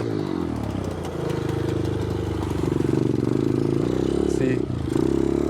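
SSR 125 dirt bike engine revving during a wheelie, a close buzzing motor that rises and falls in pitch over several seconds.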